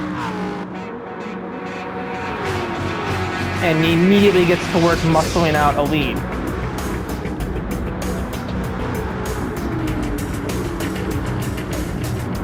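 A race car on track, the number 5 car, accelerates hard with a loud, rising engine roar that peaks midway and holds a steady drone, while a commentator talks over it throughout.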